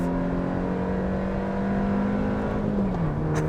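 A Suzuki Jimny launches hard with the clutch dropped, its engine droning steadily at full throttle and pulling up in pitch, then easing slightly near the end as it shifts.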